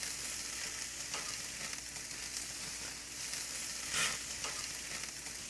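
Browned chops frying in a pan after being turned, a steady close sizzle with faint crackles and a brief louder flare near the end.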